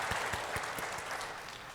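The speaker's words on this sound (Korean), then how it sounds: "우리 수고한 은평찬양단 우리 격려의 박수 드리겠습니다." A church congregation applauds its choir in a sanctuary, a short burst of steady clapping with a few sharper individual claps standing out.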